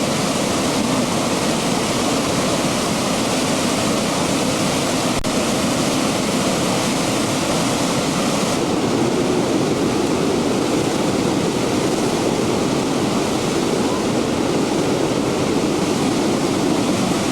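The waterfall at Great Falls pours as a loud, steady, broadband roar of rushing water, constant and close for the whole stretch with no voices.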